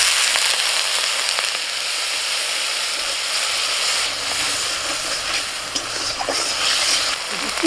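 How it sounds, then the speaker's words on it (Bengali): Crab masala paste with onion and a little water cooking in a hot pan, giving a loud, continuous hissing sizzle with a few faint scrapes and no pauses. "আমার একটু জল দিয়ে কষিয়ে নেব।"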